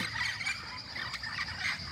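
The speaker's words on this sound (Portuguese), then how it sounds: "Riacho da Baixa Grande, Revoada dos Papagaios" Flock of parrots flying over a creek at Riacho da Baixa Grande, a continuous faint chorus of overlapping squawks and harsh calls, distant and steady with no voices.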